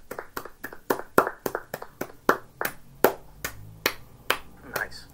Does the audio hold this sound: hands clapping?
yes